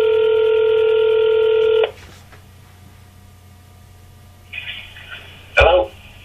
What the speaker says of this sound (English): about to phone Lee Main, the promoter and longtime promoter of Rumble in the Cage